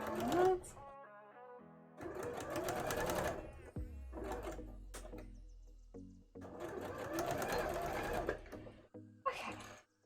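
Sewing machine stitching a cosplay dress, running in loud, rapid mechanical bursts of several seconds each, separated by pauses, with a person talking briefly at the start.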